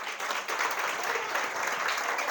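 Church congregation clapping together after a sermon, a steady dense patter of many hands sustained evenly for a couple of seconds with no talking over it.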